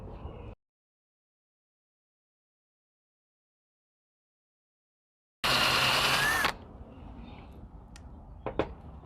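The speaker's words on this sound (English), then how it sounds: "I'm going to try and aim into this section and kind of get up here with my drill." After a long silence, a power drill gives one short, loud burst of about a second, followed by faint handling noises and a couple of clicks.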